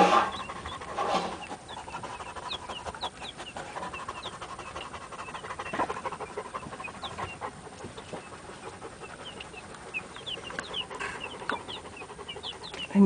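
A mother hen clucks softly among her keet chicks in a coop, with faint chirps and scratching, and steady panting-like breathing close by.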